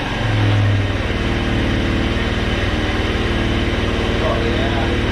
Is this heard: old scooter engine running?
yes